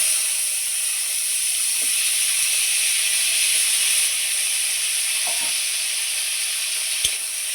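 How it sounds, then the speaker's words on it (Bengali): Mango pieces fry in oil after a dried chili and mustard seed tempering, a steady, continuous loud hiss with a few soft knocks and one sharp clink near the end. "আমি তেলের মধ্যে কিছুক্ষণ আমটাকে ভেজে নিয়েছি"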